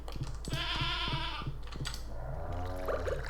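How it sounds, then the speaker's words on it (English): A baby goat bleats in the farming video game Stardew Valley, a short wavering call over repetitive game music with light clicking sounds. "Pet Lasers the goat and LaBeef the cow."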